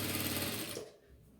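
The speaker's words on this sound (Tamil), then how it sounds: "இப்படி சென்டரில் எலாஸ்டிக் வச்சு இந்த மார்க்கிங்க்கு நேராகவே நான் ஸ்டிச் பண்ணிக்கிறேன்." A sewing machine runs loud and close while stitching elastic onto baby shorts, a fast mechanical whir that stops abruptly partway through.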